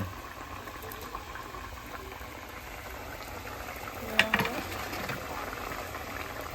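Fish slides into a wok of simmering curry, a steady bubbling boil with a brief splashing sizzle as the pieces go in.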